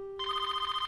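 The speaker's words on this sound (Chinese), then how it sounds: "电话，我去接。" A telephone rings with a steady, bright electronic trill that starts abruptly after a short silence and pulses rapidly and loudly, close by, with no voices.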